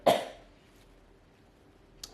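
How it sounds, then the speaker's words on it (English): A single sharp cough bursts out close by at the start, trailing off into quiet room tone, with a second short cough-like burst near the end; no talking. "Cough attack."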